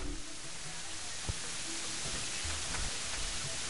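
Rain falling in the game Terraria, a steady even hiss of downpour with a few soft droplet ticks, constant and fairly loud throughout.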